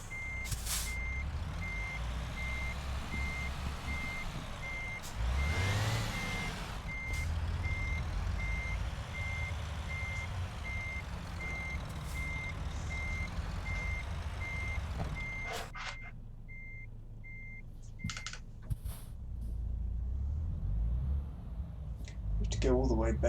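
Steady electronic reversing beeps from a truck in a truck driving video game, repeating evenly over a low engine rumble and hiss, with a brief air-brake burst partway through; the beeping stops near the end and a voice talks over it.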